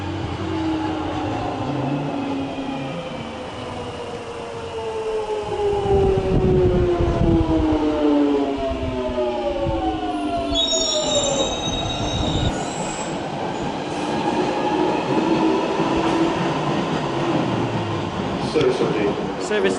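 A London Underground Metropolitan line train rumbles past at close range at West Hampstead, wheels squealing with rising and falling tones, steady and loud for the full length with a rushing roar.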